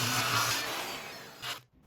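A glued-up poplar panel is trimmed to width with a tool, giving a steady rough rasping sound that fades before a short final burst and sudden stop.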